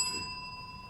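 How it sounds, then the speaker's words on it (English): A single bell strike at a candidates forum for state house and senate seats, a clear ringing tone that rings out and decays over under a second, moderately faint against room noise. "When the time is up, she'll sound a bell."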